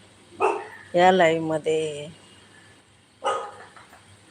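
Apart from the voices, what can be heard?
dog barking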